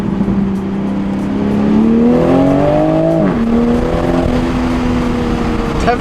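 Stock car engine accelerating while driving, a loud interior drone with the pitch climbing through a gear, a brief dip at a shift, then pulling steadily again.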